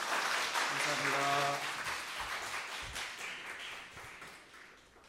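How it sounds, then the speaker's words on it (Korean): Congregation applause welcoming a pastor at a Sunday afternoon church worship service, a dense wash of clapping that fades over several seconds while a voice speaks over it near the start. "일단 목사님 나오실 때 박수로 환영해 주십시오."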